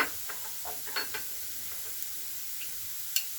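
Onions browned golden with turmeric, chili powder and spices fry quietly in a pan, a soft steady sizzle broken by a few light scraping stirs and small ticks, no voices.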